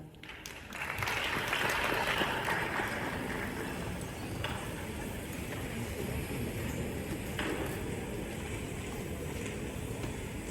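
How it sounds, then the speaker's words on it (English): An audience rises and applauds at a formal ceremony honouring a chief justice, a dense, sustained round of clapping from a large crowd filling the whole stretch, steady and without talk. "Can we rise and give her the proper round of applause, please?"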